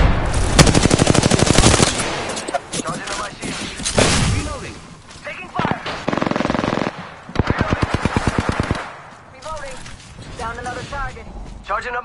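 Rapid automatic gunfire rattles in long, loud bursts in an Apex Legends match, with shorter volleys and mechanical clicks between them, and a voice talks over parts of it.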